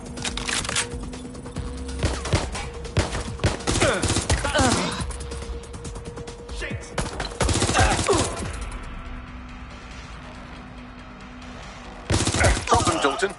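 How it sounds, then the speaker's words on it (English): Gunfire from the video game Watch Dogs: Legion comes in dense rapid bursts, loud and close, over steady background game music, with a quieter gap before a final burst. "They're shooting!"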